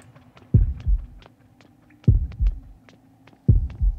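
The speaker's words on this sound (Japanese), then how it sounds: "だんだん心音がでかくなっていきますね。" Heartbeat in the Horrorfield video game, a deep thumping double beat repeating about every one and a half seconds over a low steady hum, loud and with no talk over it.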